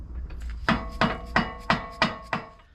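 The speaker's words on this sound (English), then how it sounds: "I took a hammer and hit this deep well socket" Six sharp metallic hammer strikes on a deep well socket, seating Jeep Wrangler JL sway bar bushings, land in a steady rhythm about a third of a second apart, loud and close with no talking.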